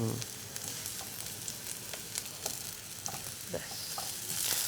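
Eggplant sizzles as it goes into hot oil, with a continuous crackling hiss and occasional stirring scrapes throughout.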